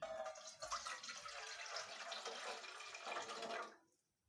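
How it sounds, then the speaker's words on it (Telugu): Tamarind juice pours steadily into a bowl with a soft, continuous liquid splash that stops abruptly near the end. "దాని రసాన్ని ఇప్పుడు ఈ బౌల్లోనికి వేసేసుకుందాం"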